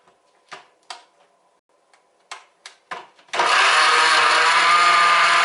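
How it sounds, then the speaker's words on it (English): Several sharp clicks and taps, then a blender motor starts abruptly and roars steadily and loudly until the end. "And we're gonna blend it"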